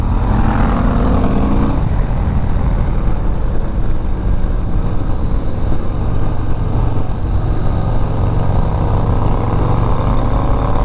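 A 2024 Harley-Davidson Breakout motorcycle engine drones loudly and continuously while riding, with a brief rising rev at the start and steady wind rush throughout.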